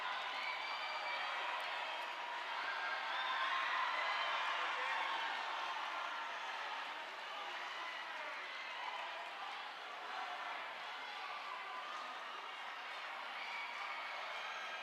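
A large indoor crowd cheers and shouts in steady support for athletes racing on rowing machines at a national indoor rowing championship, a continuous mid-distance roar holding for the whole stretch with a commentator talking over it.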